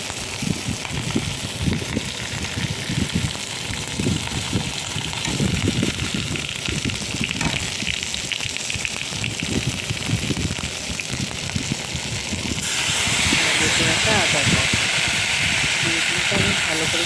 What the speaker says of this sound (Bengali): কড়াইটা পাতলা করে একটুখানি দিয়ে দিলাম শুকনো লঙ্কা সর্ষে